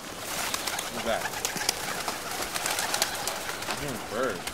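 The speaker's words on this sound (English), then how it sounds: "I'm hearing birds." Pigeons or doves coo in a few soft, rounded bursts, moderately close, against a hissy outdoor background with scattered clicks and no speech.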